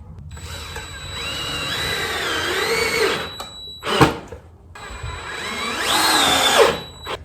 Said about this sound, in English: as I go back to screw in those screws